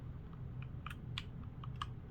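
Gentle typing on a Logitech G512 Carbon mechanical keyboard with brown switches, a few soft, scattered key clicks at close range over a steady low background hum.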